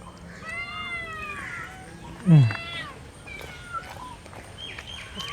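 Several cats meow nearby in a home kitchen, with a series of drawn-out cries and one louder, sharper yowl partway through. Faint talk can be heard in the background.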